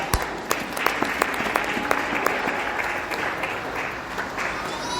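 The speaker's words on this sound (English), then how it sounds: "I think it's good to clap" Congregation applause during a church sermon, dense and sustained for about five seconds, with sharper individual claps standing out from the steady wash of hands.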